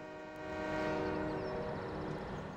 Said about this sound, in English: I'm not sure you guys could hear the actual horn of the train